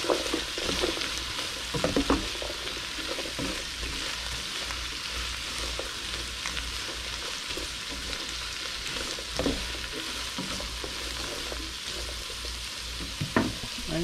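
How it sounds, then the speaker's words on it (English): Sliced peppers sauté in a hot pan for a tuna stir fry, giving a steady, close sizzle with scattered scraping and clacking stirs throughout. "And you just want to stir them around so they get a good even amount of time."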